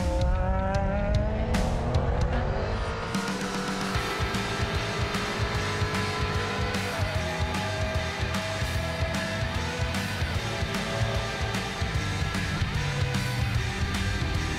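LMP3 prototype race cars and a nimble CN car battle around the Donington GP circuit, engines loud and continuous with repeated gear changes, rising and falling revs as cars pass close by, and brief tyre squeals.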